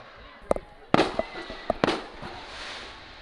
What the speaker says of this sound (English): I can tell they're really excited shooting off those fireworks